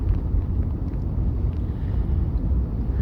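Wind on an icy day near ice-coated power lines, a low, continuous rumbling buffet of gusts pressing on the microphone, steady and fairly loud with no voices.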